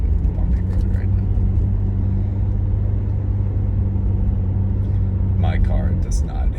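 A car rolls over a bumpy road, its steady low rumble and road noise running throughout with a faint rattle of jostling, and a brief light clatter near the end.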